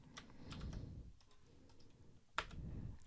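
Keys clatter on a computer keyboard as a terminal command is typed for the vi text editor, quiet scattered clicks with a sharper final keystroke near the end, no talking.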